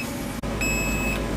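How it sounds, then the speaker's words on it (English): A ship's engine-room alarm for exhaust gas over-temperature sounds as a steady, high electronic tone. It holds for about half a second over a constant machinery hum, following a brief dropout. "So it's just an alarm every time that it goes over temperature."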